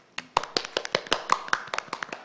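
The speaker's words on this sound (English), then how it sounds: "why don't we give a big round of applause?" An audience at the 5th WeGO General Assembly claps in sharp, distinct hand claps, about a dozen spaced irregularly over two seconds, clear and fairly close against a quiet room.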